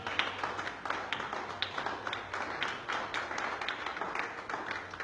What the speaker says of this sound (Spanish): Démosle un aplauso a nuestro Señor Jesús.